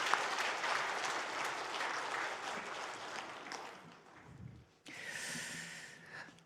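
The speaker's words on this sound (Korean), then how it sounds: "건강하게 군생활 잘하고 오라고 격려의 박수 부탁드립니다." A church congregation claps warmly together during a Korean Sunday worship service, a dense, steady applause lasting several seconds that thins out before a brief final burst.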